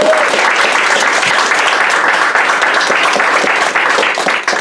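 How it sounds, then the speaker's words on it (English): Round of applause at a team meeting, thick sustained clapping from a roomful of people, loud and even throughout with a faint cheer near the start. "I want give Mr. Tim Austin a round of applause."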